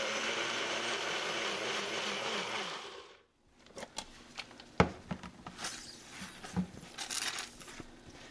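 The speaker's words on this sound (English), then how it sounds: "when you're blending in this bullet" A bullet blender whirs loudly while blending chile sauce for Mexican carne con chile colorado, a steady motor drone that cuts off after about three seconds, followed by scattered kitchen clatter and small knocks.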